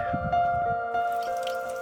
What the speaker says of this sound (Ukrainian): Тепер перерізали трубу, зробили тут струмочок